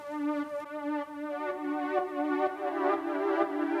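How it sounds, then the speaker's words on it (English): A warm Omnisphere synthesizer pad sustains a rich harmonic tone that brightens and shimmers over a few seconds, played alone at moderate level. "I'm gonna switch to a nice Omnisphere"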